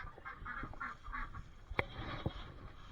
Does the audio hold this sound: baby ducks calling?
yes